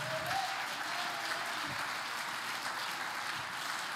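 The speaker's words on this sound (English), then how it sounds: "Somebody clap your hands again tonight." A church congregation claps during an evening service, a steady, fairly quiet wash of many hands that stays even throughout and has no speech over it.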